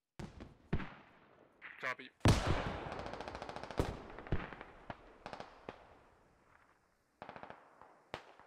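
Explosions and bursts of automatic gunfire in the military shooter game Squad, with heavy booms followed by rapid rattling volleys and scattered single shots, fairly close, under occasional player voices.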